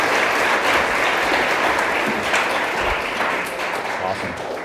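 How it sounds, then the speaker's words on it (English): A room of people at a club kickoff meeting give a steady round of applause, dense clapping holding evenly for several seconds and fading slightly toward the end. "Yes, round of applause for that too."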